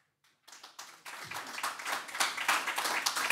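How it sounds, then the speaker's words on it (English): Applause from an audience of dairy farmers at a Jersey cattle forum in Jersey, starting with a few scattered claps then swelling into a full, steady round that builds in loudness, with no talking over it. "we had a good round of applause here in Jersey"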